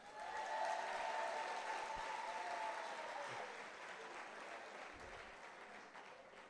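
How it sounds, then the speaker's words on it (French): A conference audience applauds itself at the close of the proceedings, a fairly faint, distant wash of clapping that fades gradually toward the end. "je vous demande d'applaudir pour vous-même également."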